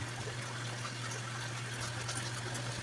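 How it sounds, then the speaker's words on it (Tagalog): Water from a water heater flows into a washing machine filling its drum, a steady rushing and gushing over a low constant hum, moderately close and unbroken. "nagpasok na siya ng tubig sa loob ng machine eh"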